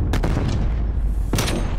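Booming gunshots in a video game, two heavy close reports about a second apart over constant loud battle noise, with no talk.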